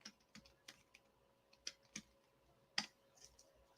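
Typing on a computer keyboard, a run of crisp, irregular key clicks at close range, some strokes sharper than others, with no talk over them.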